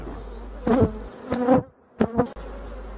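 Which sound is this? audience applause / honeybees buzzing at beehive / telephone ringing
honeybees buzzing at beehive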